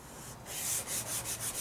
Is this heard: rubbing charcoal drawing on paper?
yes